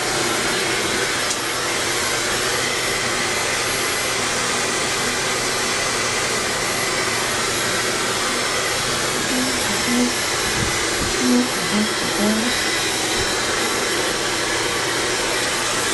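A hair dryer blows steadily and loudly, close by, as hair is dried during an at-home wash and blow out, a constant broadband whoosh that lasts throughout with a faint whine on top.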